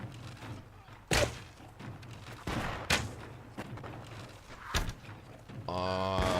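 Musket volleys from troops in Mount & Blade: Warband crack out as several sharp, loud reports spread across the clip, with a low rumble of battle underneath and a brief tonal game sound at the end.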